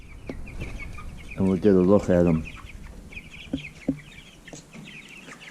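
Freedom Ranger and Cornish Cross meat chickens cluck on pasture in a short, loud burst of stacked calls near the middle, with fainter scattered clucks and someone talking around them.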